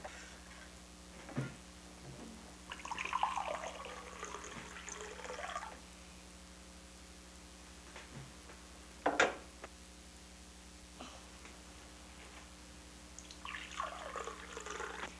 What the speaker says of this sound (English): A more advanced stage would be to show the child how to pour water.